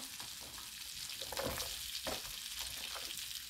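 Onion sizzles in olive oil and butter in a pan for a noodle soup, a steady crackling fry with soft stirring scrapes and brief louder bursts.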